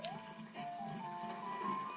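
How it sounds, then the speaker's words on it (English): A Skulltula in a Zelda video game gives off a looping electronic ticking chirp, moderately loud, with faint game ambience underneath and no talking. "As you hear, we have a Skulltula right up there."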